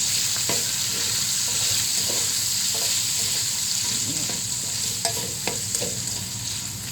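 Chopped chicken nuggets and sausage frying with garlic in a pan, a constant close hissing sizzle with occasional scrapes and knocks of stirring.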